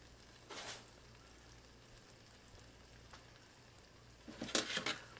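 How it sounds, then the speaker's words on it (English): Quiet steady sizzle of a roast searing in a pan, with a brief burst near the start and a louder crackling flare toward the end, close and without talk. "I'm just going to place my roast down, and I'm going to let it cook for a few seconds on each side"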